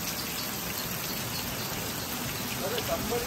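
Steady rain falls outdoors near a garden farm, an even, moderately faint patter with no clear voices.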